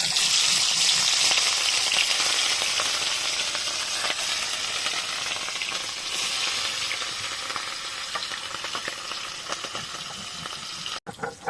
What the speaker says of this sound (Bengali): বাকি মাছগুলো খুব ভালোভাবে ভেজে নিয়েছে